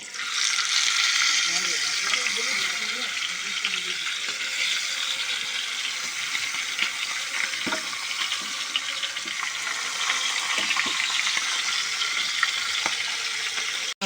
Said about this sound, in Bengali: তেলটা গরম হয়ে গেছে, মাথাগুলো ভেজে নেব।